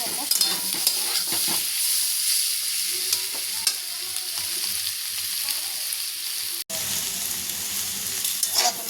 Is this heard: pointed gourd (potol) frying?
yes